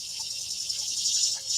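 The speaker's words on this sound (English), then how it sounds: "The cicadas agree." Cicadas chirping outdoors, a continuous high, shimmering buzz that holds steady and fairly loud throughout, with no voices.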